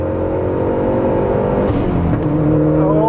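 A Mazdaspeed3 engine pulling hard from 3,500 RPM under full throttle, a loud, close, steady drone that climbs in pitch across the few seconds, heard from inside the car without talk.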